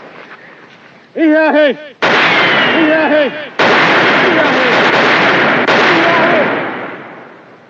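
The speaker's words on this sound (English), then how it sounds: "Tell him to stop firing." Gunfire in a western TV episode comes as several loud, close blasts, with shouting voices over the first shots and long rumbling echoes after each report.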